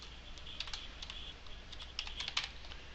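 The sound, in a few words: typing on a computer keyboard in Google Docs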